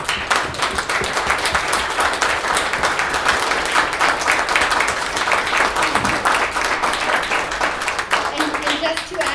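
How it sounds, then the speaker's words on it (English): An audience at a panel discussion on AI featuring Sophia the Robot applauds the panelists, dense and loud steady clapping throughout, with crowd voices and cheers mixed in. "I'd love it if you guys could give everybody up here a round of applause"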